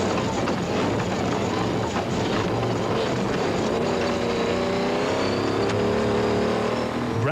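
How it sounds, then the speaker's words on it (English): A Ford Ranger race truck roars along a rally-style course at the Carnival City 400 in 2002, heard from onboard as loud, constant engine drone and rattling chassis noise that rises into a higher whine near the end. "You're on board in the Ford Ranger. Enjoy the ride across the chessboard section."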